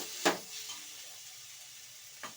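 Onions frying in a pan, a soft steady sizzle with two brief sharp scrapes of stirring, near and fairly quiet.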